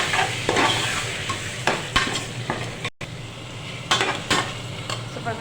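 Tomato pieces go into a pan of frying onions and green chilies, giving a steady loud sizzle with repeated stirring and scraping of a utensil against the pan.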